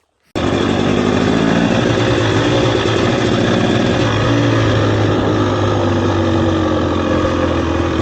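Dirt bike engine starting abruptly and then running steadily nearby, a loud, continuous buzzy drone with a constant pitch and no talk over it.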